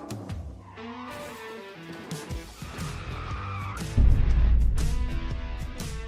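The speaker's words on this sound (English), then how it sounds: "she heard tires screeching before a truck swerved into her lane sideways" Tires screech and skid on a highway as a truck swerves sideways just before a crash, a long, loud, wavering squeal with a heavy low thump near the end.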